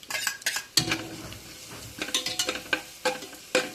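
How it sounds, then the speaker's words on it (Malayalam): Chopped onion with crushed ginger, garlic and green chili sautés in a pan for a vegetable biryani, a soft sizzle broken by loud, close scrapes and clanks of a spoon stirring against the metal. "ഉള്ളി ഒന്ന് വഴണ്ട് കഴിഞ്ഞാൽ അതിലേക്ക് നമുക്ക് ഇഞ്ചി വെളുത്തുള്ളി പച്ചമുളകും കൂടെ ചതച്ചത് ചേർക്കാം."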